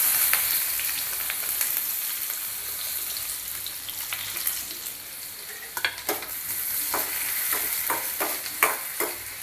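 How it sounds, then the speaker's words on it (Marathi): Chopped onion sautéing in hot oil with a bay leaf, a steady broadband sizzle with scattered stirring scrapes and clicks throughout, close and continuous, no voices. "कांदा आहे तो चांगला परतून घेऊया."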